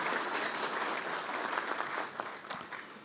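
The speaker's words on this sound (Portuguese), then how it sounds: "a qual eu peço uma salva de palmas." An audience at a formal signing ceremony gives a round of applause, dense and even clapping from a crowded hall that stays strong before easing slightly toward the end.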